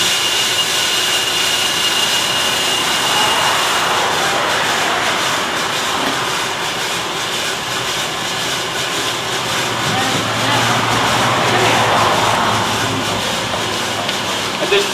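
A Bideli 2KG gas coffee roaster runs with a steady, broad roaring hiss as beans drop into it, the drum and burner noise staying loud and continuous throughout.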